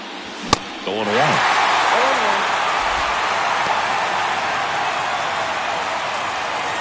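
A baseball stadium crowd in the ninth inning of a one-run game gives a steady, dense roar. It follows a sharp knock at the start and a brief murmur of voice.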